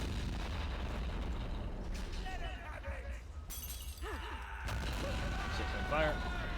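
Artillery and explosions from the Men of War: Assault Squad 2 battle, with a self-propelled gun firing, come as booming blasts and crashes under a game soundscape while a player talks over it.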